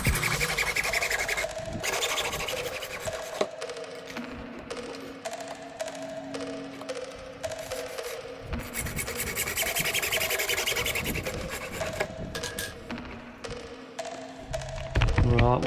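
Small sections of pipe, about 60 mm long, being cut for the corners of a fishing rod storage frame, giving a steady, close rasping scrape with brief knocks and clunks throughout.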